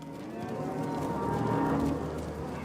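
Cattle mooing on a farm where cows graze land once roamed by bison, a steady drawn-out lowing with harmonic tone, fairly close and continuous with no talk.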